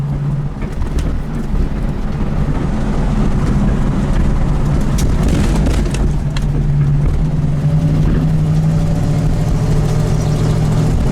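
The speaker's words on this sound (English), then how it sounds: "that dual exhaust sounds awesome" A 1972 AMC Javelin idles with a deep, steady rumble from its dual exhaust, loud and close, while birds chirp faintly in the background.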